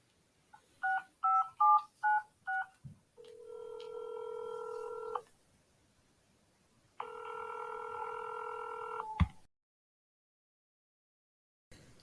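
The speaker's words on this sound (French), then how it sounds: "Ok, je peux appeler Sarah" Five short telephone keypad beeps in quick succession, then two long ringback tones with a pause between, ending in a click and silence.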